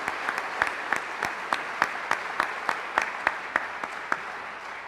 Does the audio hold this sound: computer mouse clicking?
no